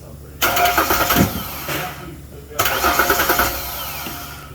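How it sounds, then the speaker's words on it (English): A 2011 Ford Ranger engine cranks over in two separate bursts with the starter powered directly, each a rapid, rhythmic chugging that stops without catching, close by and fairly loud. "you will be directly powering the starter and the engine will turn over"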